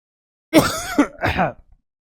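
A single close throat clearing followed by a short raspy cough-like burst, loud and isolated against silence.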